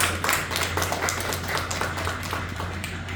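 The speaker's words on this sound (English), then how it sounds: "We got the applause." A studio audience applauds in a steady, dense patter of many hands that lasts throughout, with a constant low electrical hum beneath and no talking.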